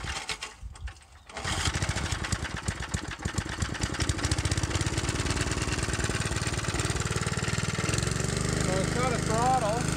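The small engine of a roller sputters to life after a brief pause, then chugs and rattles steadily at a loud, rough idle with a faint hum underneath.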